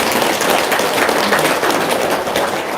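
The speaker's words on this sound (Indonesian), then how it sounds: "Tepuk tangan dong." A loud, continuous roar of audience applause fills the room, dense and steady from start to finish at an Islamic gathering where a donation of 10 million has just been pledged.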